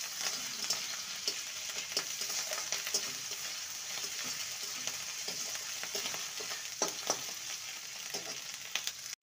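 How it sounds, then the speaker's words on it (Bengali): Ginger-garlic paste sizzles and fries steadily in a hot pan, with occasional scraping stirs cutting through the continuous crackle; no voices. "ভালো করে কষিয়ে নেব।"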